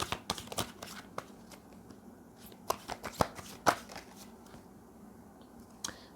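Tarot cards shuffled by hand in quick, irregular riffles and soft slaps, close and fairly quiet, with brief pauses between bursts.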